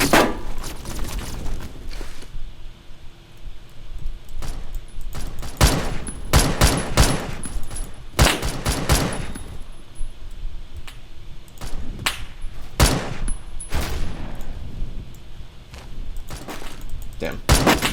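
DMR rifle gunfire in the Roblox shooter Phantom Forces: sharp, loud shots in quick clusters and short bursts spread across the stretch, with other weapons firing in the background.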